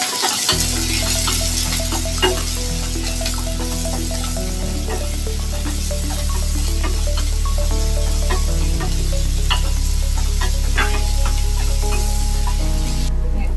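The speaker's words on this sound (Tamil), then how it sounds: "நம்ம வெங்காய தக்காளி வதக்கிக்கலாம் தேவையான அளவு சேர்த்து நல்லா வதக்கிக்கலாம்" Onions and tomatoes sautéing in a pan for prawn thokku, a loud, continuous close sizzle with occasional stirring scrapes and no speech.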